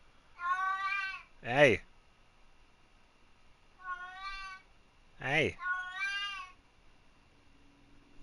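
A cat meows loudly and insistently several times, drawn-out cries spaced a few seconds apart, with a person calling out briefly in between.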